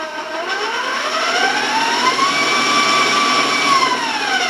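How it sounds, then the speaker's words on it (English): An electric mixer blends brownie batter with vanilla, a loud steady whir that rises slightly in pitch partway through and holds for several seconds, with no voices. "I'm going to turn my mixer on"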